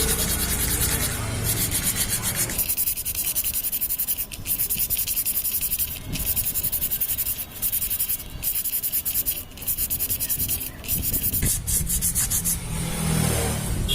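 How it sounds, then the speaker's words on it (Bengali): Honda Super Cub clutch plates are rubbed by hand against an abrasive surface to expose bare metal. The rhythmic back-and-forth scraping strokes are close and loud and continue steadily. "তো আমরা এইভাবে দুটো ক্লাস প্লেটই এইভাবে ঘষে দেবো যাতে মেটালটা বের হয়ে আসে"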